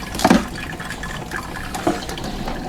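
Coffee pours from a drip coffee maker with a pause-brewing function into a cup: a soft, steady liquid trickle with a couple of brief splashy bursts near the start, fairly close and alone.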